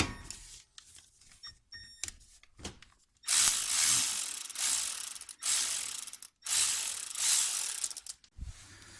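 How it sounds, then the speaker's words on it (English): Ratchet clicking in bursts while a mechanic undoes the bottom guide bolt on a car's front brake caliper during a brake pad and rotor change, close and loud with brief pauses between runs of rapid clicks. "So we're going to undo this bottom guide bolt right here."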